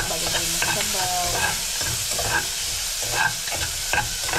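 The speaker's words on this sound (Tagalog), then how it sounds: "Isahin na lang natin yung bawang mga ka-channel para sa ating sinabi." Garlic and onion sauté in hot oil, giving a steady close sizzle and frying hiss with intermittent stirring scrapes throughout.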